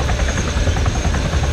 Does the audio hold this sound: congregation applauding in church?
no